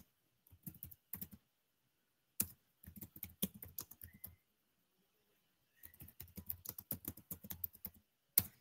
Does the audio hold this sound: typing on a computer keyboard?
yes